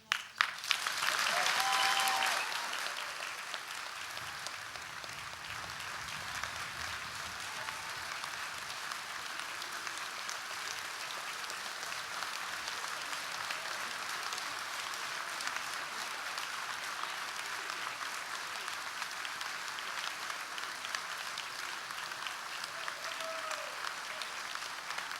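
An audience at a university graduation ceremony claps steadily after the presentation of Arts and Sciences students, a broad, sustained wash of applause that starts loud and settles into an even patter, with a brief voice near the start.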